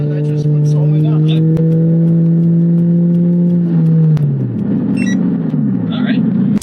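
A PT Cruiser making a run without nitrous, its engine droning at a steady rising pitch for about four seconds before dropping off into a rougher rumble, loud and close, with a voice heard briefly over it.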